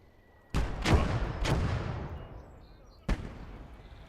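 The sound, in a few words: mortar fire in video game Gates of Hell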